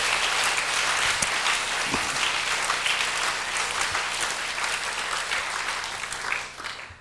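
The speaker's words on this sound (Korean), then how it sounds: "우리 주님께 박수로 영광 돌리겠습니다" A church congregation claps for the Lord during a Korean worship service. The applause is loud and sustained, with many hands beating steadily, and it thins out just before the end.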